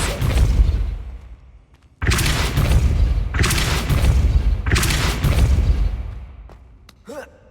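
Depulso spell effect in the Hogwarts Legacy video game: three loud, broad whooshing blasts, each cutting in sharply and sustaining about a second before fading, with a faint tonal chime near the end.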